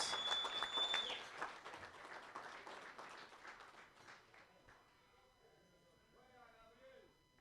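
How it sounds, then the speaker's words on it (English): Applause rings out from an audience at a bench press championship, loud at first then fading away to quiet, with a voice speaking near the end. "Give me a big round of applause for Gabriel Mendez."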